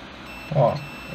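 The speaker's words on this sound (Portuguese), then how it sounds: "esse componente bipou, né? Na escala de continuidade" A single short beep from a multimeter on its continuity setting sounds as the probes touch an electronic component, brief and close against a quiet background.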